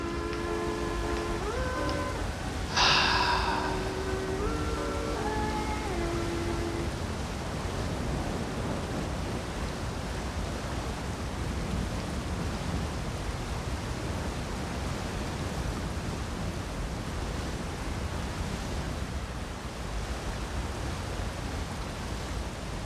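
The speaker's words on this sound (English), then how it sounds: "This is the best waterfall ever. I can just like listen to this shit all day." Waterfall in the video game Elder Scrolls Online: a steady, full rush of falling water that holds unbroken throughout, with a few brief tonal chimes near the start.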